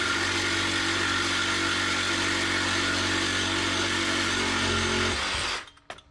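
A power tool cuts steadily through a Ford Fiesta ST exhaust pipe, a loud continuous buzzing whine that runs for about five seconds and then stops abruptly, followed by brief quiet clatter.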